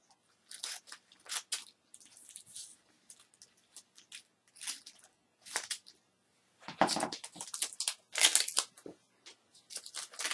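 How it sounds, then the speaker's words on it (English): Washi tape peeled by hand and its sides snipped with scissors, close and crisp: short crinkly tearing bursts and sharp cutting crunches come in scattered clusters, with a denser run of snips near the end. "you carefully peel it off and then cut the sides"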